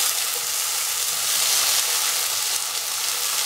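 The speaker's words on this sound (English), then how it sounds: "Now put in the tomatoes." Tomatoes sizzling steadily in a hot frying pan for tomato pulao, a dense continuous frying hiss at close range with no voices.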